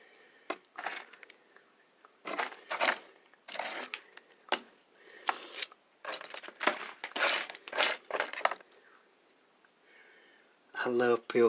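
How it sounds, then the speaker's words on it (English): Old skeleton keys for antique locks jangle and clink in irregular metallic bursts, close and fairly loud, with brief quiet gaps between handlings. "These are skeleton keys for them."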